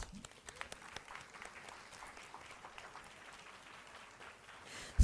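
An audience at an international conference on artificial intelligence applauds with soft, continuous clapping that sounds somewhat distant and subdued, ending in a brief louder bump.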